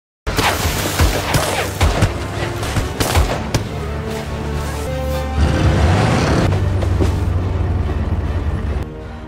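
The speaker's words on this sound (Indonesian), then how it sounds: "Tiba-tiba mereka diberondong peluru oleh para pengikut Arthur." Loud, sustained bursts of gunfire and booming impacts from a movie scene in which people are sprayed with bullets by a group of followers, dense and continuous for about nine seconds with no speech.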